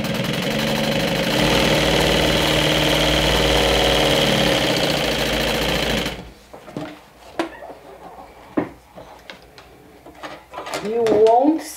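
A sewing machine top stitches the seam allowances on a fabric makeup bag, running steadily and close for about six seconds before stopping, after which a person talks.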